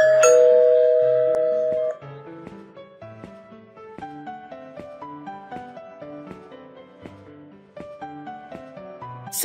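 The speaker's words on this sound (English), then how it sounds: "Somebody is ringing the doorbell." An electronic doorbell chime rings once at the start of a kids' home-safety education game, then gives way to light, plinking background music.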